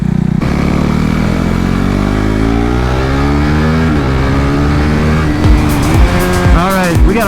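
KTM RC390 Cup motorcycle with a quickshifter on a race track, engine climbing in pitch through rapid seamless upshifts, loud and close, with rising and dropping revs and a brief tire-like squeal near the end.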